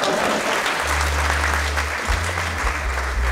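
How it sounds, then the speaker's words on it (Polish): Audience applause fills a theatre hall during a birthday celebration show, steady clapping rising in and holding for a few seconds with a low hum underneath. "Może jakieś brawa?"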